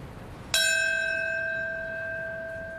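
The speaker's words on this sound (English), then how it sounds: "Then a bell, marking the minute the first plane struck the World Trade Center." A single bell strike at a memorial ceremony marking the minute the first plane hit the World Trade Center, ringing clear and sustained with a long fading tone in otherwise quiet surroundings.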